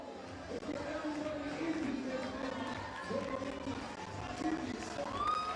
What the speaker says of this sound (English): The crowd is getting rowdy.